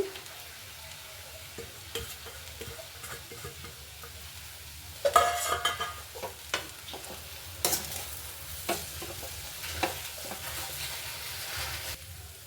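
Chapati noodles stir-fried with fresh coriander leaves in a hot pan, a steady sizzle broken by repeated scraping and tossing strokes, close and fairly loud, with no talking.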